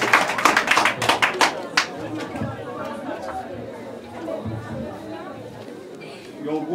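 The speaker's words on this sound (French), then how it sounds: "Applaudissons le fois encore." Mourners at a funeral service give a short round of clapping that fades quickly into murmuring chatter and background voices from the gathered crowd.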